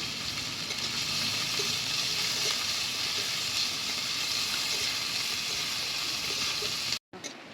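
Chopped onion, garlic and green chilli sizzle together in hot oil for a village-style masala mushroom dish, a loud continuous frying hiss that runs unbroken for about seven seconds before cutting off abruptly.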